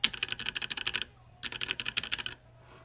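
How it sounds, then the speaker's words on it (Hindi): Computer keyboard typing up close, two quick bursts of rapid keystrokes separated by a short pause, clear and alone with no talking. "मेरे कीबोर्ड की भी आवाज़ आ रही है"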